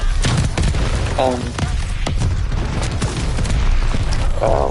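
Mortar explosions in a video game thump repeatedly as scattered booms and bursts of fire under near-constant talking from a player.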